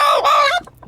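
A chicken in a rural village lets out a single loud, close squawking cluck that breaks off sharply and is followed by quiet.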